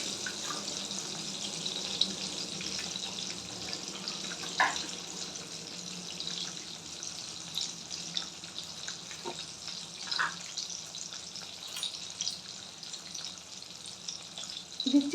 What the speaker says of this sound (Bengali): আর এর সাথে দিয়ে দিচ্ছি একটা ডিম ফাটিয়ে এর মধ্যে দিয়ে দিচ্ছি।